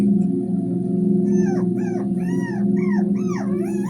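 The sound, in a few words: puppy whimpering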